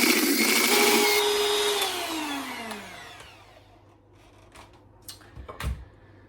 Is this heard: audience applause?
no